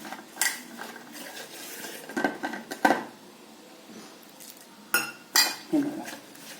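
Metal utensil scraping and clinking against a bowl while gram flour batter for cabbage fritters is stirred, in short irregular bursts with quiet pauses between.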